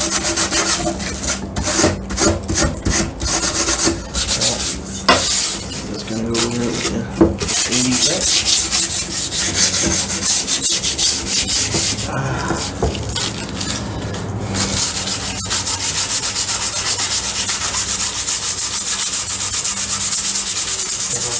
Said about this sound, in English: I think it's sandpaper.